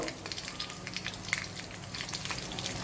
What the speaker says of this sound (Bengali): প্রায় 1 কেজি সাইজের আমরা একটা বড় তেলাপিয়া মাছ এনেছিলাম আমরা ফ্রাই করব বলে।